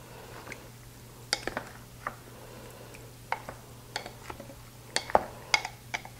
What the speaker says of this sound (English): we're going to stir this all together